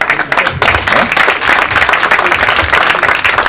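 A ceremony audience honoring engineers breaks into loud, dense applause, many hands clapping at once in a sustained roar that swells and holds for several seconds, close and full.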